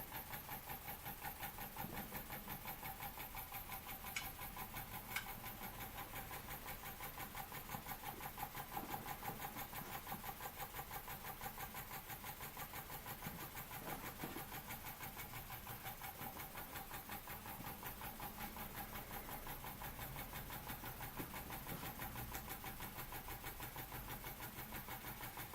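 A Weeden 420 model steam engine runs with a steady, close hiss and a fast mechanical chuffing that continues without a break.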